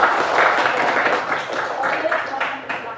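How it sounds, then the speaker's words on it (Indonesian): Brief clapping from a classroom group of students after a group presentation, uneven hand claps mixed with a few voices, moderately close and fading toward the end. "Beri tepuk tangan buat."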